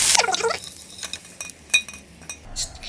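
Japchae ingredients stir-fried in a pan, with close, sparse metallic clinks and scrapes of a utensil against the cookware and brief gaps of quiet between strokes.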